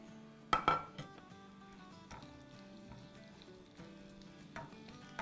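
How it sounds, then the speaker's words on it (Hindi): Spices fry in a pan of oil for dahi phulki, a quiet crackling sizzle with close clinks and knocks of a spoon against the metal pan. "थर्टी सेकेंड फ्राई करेंगे ताकि अच्छा सा खुशबू आ जाए।"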